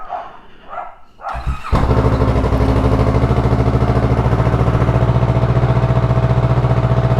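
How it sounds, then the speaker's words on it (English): A Kawasaki Vulcan S parallel-twin motorcycle engine starts up close by. Brief quiet whirring comes first, then a sudden catch into a loud, steady, even idle that fills the rest of the clip with no talking. "There we go, the parallel twin. As you can hear, it started up, and it just doesn't have that that V-twin sound"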